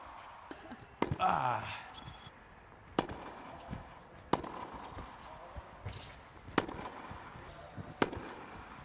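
Tennis volleys struck with a small-headed Federer-style racket, four or five sharp crisp pops spaced a second or two apart on a court, with a voice talking briefly near the start.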